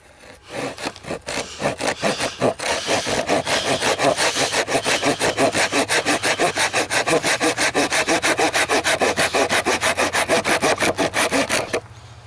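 A Fiskars folding saw cutting through very dry black poplar wood, steady rhythmic back-and-forth rasping strokes building to a fast even pace, close and clear, ending abruptly when the cut finishes.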